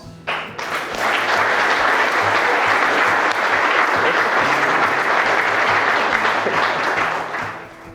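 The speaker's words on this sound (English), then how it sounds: "Round of applause." Sustained applause from a sizable wedding crowd at a farm, loud and even for several seconds before tapering off.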